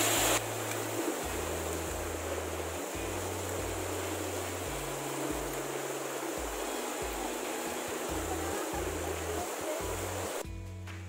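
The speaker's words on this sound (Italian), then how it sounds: "Adesso passiamo questa cascata." Mountain waterfall and stream beside an old mule track in the Alps, a steady, close rushing of water with a constant broadband roar, no talking.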